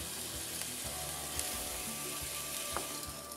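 Rice sizzling in a pan for a carrot fennel risotto, stirred steadily: continuous soft frying crackle with several dull scrapes of a utensil against the pan, fairly faint and close.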